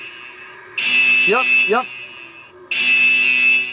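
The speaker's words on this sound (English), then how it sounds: "the alarm is going crazy now" Security alarm sounding inside a vault, a loud steady electronic tone that cuts out briefly and restarts, with a person saying a short word over it in the gap.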